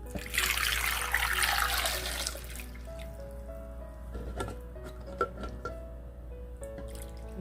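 Water poured over ten eggs in a pot makes a loud splashing rush for about two seconds, followed by quieter drips, trickles and light clinks of the pot.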